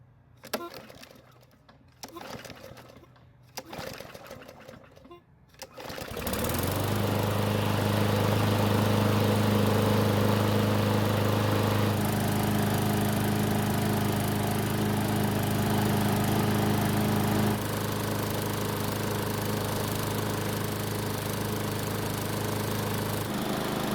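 A few rough tugs and rattles, then a hard-starting Garden Line lawn mower's small engine sputters to life and runs at a steady, loud roar until the end.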